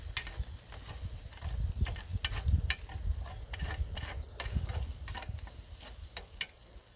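Onions and sausages cooking on a barbecue aboard a boat, a soft sizzle broken by repeated rhythmic scrapes of a utensil over the grill, with a low rumble underneath.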